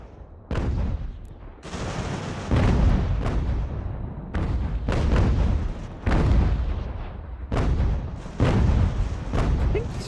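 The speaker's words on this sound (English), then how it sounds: "I think these are the same mortars." Mortar artillery fire in the Ultimate General: American Revolution video game, a string of heavy booms landing every second or two, each with a rumbling tail that blends into the next barrage.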